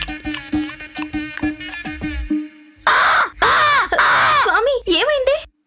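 A crow caws in several loud, harsh bursts, close and raw. A stretch of rhythmic tapping and clicking comes first.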